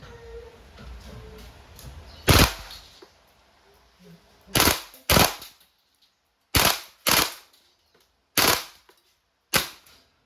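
Sharp gas-powered shots from a WE M4 RIS V3 gas blowback airsoft rifle ring out one at a time, seven loud cracks spaced about a second apart, with quiet gaps between and no speech.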